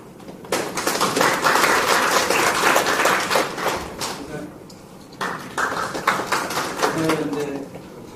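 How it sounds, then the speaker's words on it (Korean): An audience at a panel discussion on judicial damage and institutional reform breaks into applause, two bursts of dense clapping separated by a short lull, with a voice speaking over the noise. "그런데 박수는 전체 같이 한 번씩"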